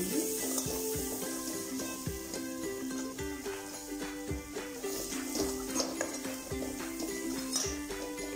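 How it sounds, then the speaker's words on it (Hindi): Pav bhaji masala sizzles steadily in hot butter in a pan, with a spatula tapping and scraping the metal in an irregular rhythm, close and fairly quiet throughout. "अब हम इसमें ये 1 छोटा चम्मच पाव भाजी मसाला डाल देंगे। इसको डाल के हम थोड़ा सा भून लेंगे।"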